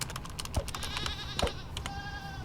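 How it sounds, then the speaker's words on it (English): A goat in the Minecraft TerraFirma Redux modpack gives a few short, wavering bleats with a longer, thin one near the end, over steady game background noise and light clicking. "Oh my god, that poor goat."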